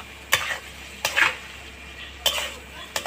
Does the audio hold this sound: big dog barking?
no